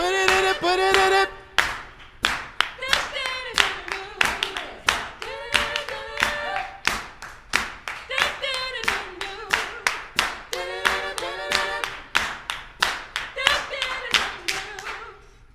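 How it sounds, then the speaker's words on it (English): A live audience at an evening musical performance claps hands together in a steady rhythm for about fifteen seconds, the claps sharp and close, with singing and crowd voices mixed in throughout. "Everybody in here, clap your hands."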